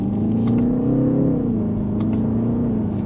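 A 2025 BMW 330i performing a tight three-point turn, a steady close engine hum with a gentle rise and fall in revs and a low rumble, no voices.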